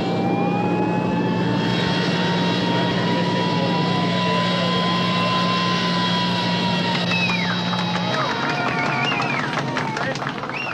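An airliner on the runway with all three engines in reverse thrust, a loud, sustained jet roar that steadily drops in pitch as the aircraft slows, with a steady tone running beneath it.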